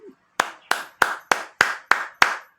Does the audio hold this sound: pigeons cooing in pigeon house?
no